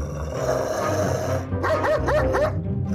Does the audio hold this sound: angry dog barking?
yes